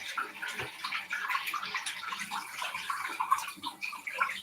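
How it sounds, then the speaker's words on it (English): Running tap water splashes steadily as hands are washed under it, a continuous close hiss with small irregular gurgles and no talking. "I'm gonna wash my hands"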